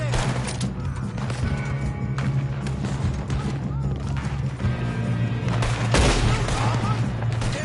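Rapid gunfire from a Red Dead Redemption 2 shootout, dense bursts of shots layered over a continuous low rumble, loud and steady throughout with voices shouting over it.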